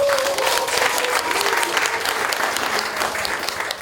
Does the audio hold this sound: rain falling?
no